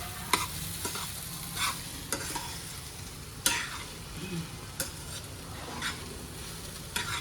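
Poha being stirred and fried in a pan for Indori-style poha, with a soft continuous sizzle broken by sharp spatula scrapes and knocks every second or so, close and without talk.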